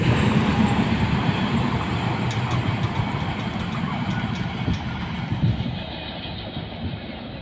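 The Bamanhat to Sealdah Uttarbanga Express rumbles steadily at Cooch Behar station, a continuous loud low drone of engine and wagons that slowly eases off toward the end, with no talk over it.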